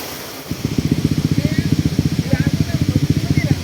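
A motorcycle on a forest trail near Tat Noi waterfall, Na Yung, Udon Thani, idling with a steady low, pulsing putter that starts after a brief pause and runs close and fairly loud, with people talking over it.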